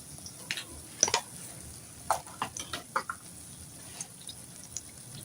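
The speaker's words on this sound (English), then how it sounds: "it's frying pretty fast" Pumpkin banana fritters frying fast in hot oil, a faint steady sizzle broken by scattered crackles and spoon clinks, close and quiet, no talk.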